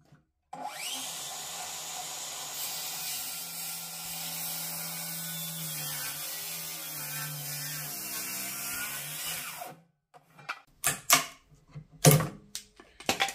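A circular saw whines steadily for about nine seconds as it crosscuts a wood board at its maximum cutting depth, then spins down, followed by several knocks and clunks of handling.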